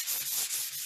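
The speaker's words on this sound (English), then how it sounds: "if I think it needs a little bit of sanding" Brisk back-and-forth rasping of sandpaper rubbed by hand over a painted wooden end table, close and steady with a few quick strokes.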